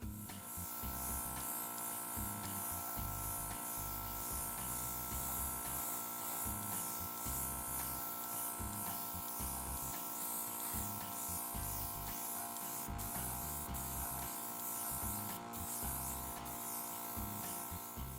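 Airbrush misting paint over model panels, a steady faint hiss of spraying air with a continuous compressor buzz underneath, unbroken throughout.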